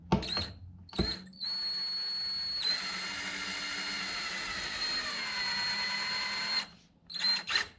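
A power drill drives a screw into a nesting post, a close steady whine running for several seconds after short starting bursts, then stopping with a few brief follow-up pulses.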